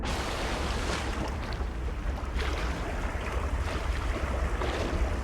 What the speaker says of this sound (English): Then the swimming motion of the arms.